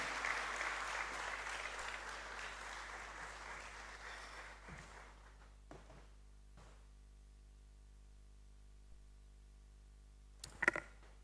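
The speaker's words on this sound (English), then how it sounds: "Let's keep clapping until he gets to the podium" A conference hall audience at a teachers' association New Year school claps as a speaker walks to the podium. The applause is faint and distant, thins out over the first few seconds, then leaves near quiet with a few stray knocks.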